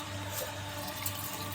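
Water runs steadily into a cooking pot, a continuous low-level pouring or tap-flow wash with a faint hum beneath, set to boil with salt for chicken biryani.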